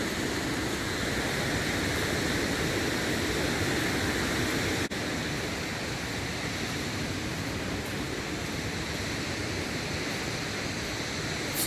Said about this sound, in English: you can hear that water rushing